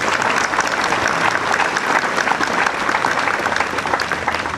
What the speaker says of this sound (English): Oh, give them a round of applause.